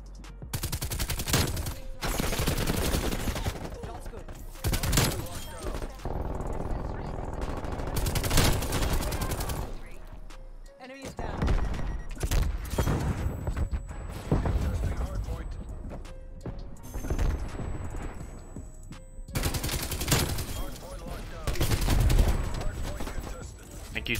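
Rapid automatic gunfire fills a Black Ops Cold War multiplayer match in loud, repeated bursts and fusillades with brief gaps, while a player talks over the shooting.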